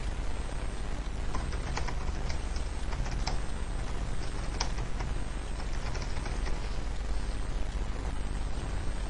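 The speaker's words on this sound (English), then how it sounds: "In this case, I'll just type something in." Steady run of light keystrokes on a computer keyboard, close and continuous for several seconds, alone with no talk over it.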